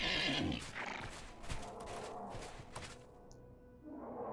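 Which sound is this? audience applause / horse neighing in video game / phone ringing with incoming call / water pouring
horse neighing in video game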